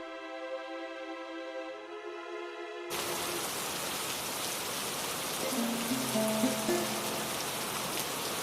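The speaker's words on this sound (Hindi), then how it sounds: "देखो, फिर से बारिश शुरू हो गई।" Steady rain sets in abruptly after a few seconds of sustained musical tone, a dense, even hiss of falling drops that continues to the end, with a few faint tonal sounds layered on top.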